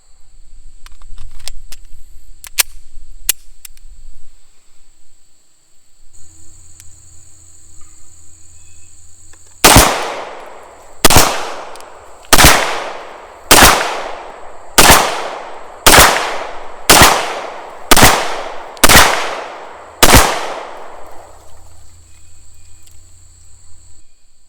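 Ten sharp pistol shots from a Beretta M9 fired from 50 feet at a range ring out at a steady, roughly one-per-second pace, each crack loud and followed by a short decaying echo, with quiet background hum between.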